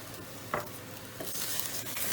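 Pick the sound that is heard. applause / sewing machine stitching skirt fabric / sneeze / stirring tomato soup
stirring tomato soup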